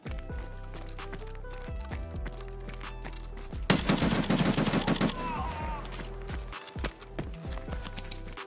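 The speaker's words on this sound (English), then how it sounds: "Who is shooting?" Gunfire in the shooter game Escape from Tarkov: a dense burst of rapid shots lasting over a second in the middle, loud against the ongoing game sounds and music, with scattered quieter effects before and after.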